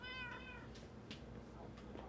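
A pet cat meows in the Minecraft video game, a short, faint mew near the start set against a low background hum.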